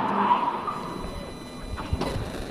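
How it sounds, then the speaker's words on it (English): A car spins out during an attempted burnout, its engine roaring and tires squealing briefly, ending in a short thud, all heard from close by. "I said burnout, not spin out."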